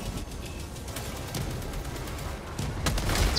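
Helldivers 2 battle gunfire, a steady busy mix of shots and bursts at moderate distance, growing louder and heavier toward the end.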